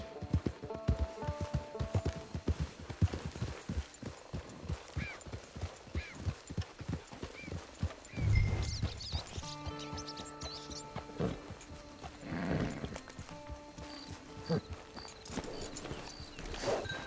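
Steady clip-clop of horse hooves on hard ground in the video game Red Dead Redemption 2 Online, with a horse's whinny partway through and faint background movement.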